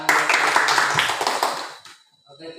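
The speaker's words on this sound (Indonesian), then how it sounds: "terima kasih tepuk tangan" Clapping hands at a school session in a senior high school in Nias, a dense burst of many claps that fades out after about two seconds, followed by a faint voice.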